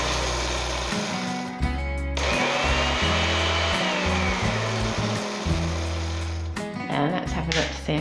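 Small electric grinder pulsing dark chocolate and pecan cookie ingredients, a loud buzzing motor in repeated short bursts with brief pauses between them, close and steady through each pulse.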